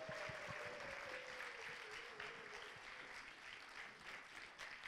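Sustained applause from a concert audience at the close of a choir's finale at a Korean unification prayer concert, a dense, even clapping that continues throughout, faint and heard alone.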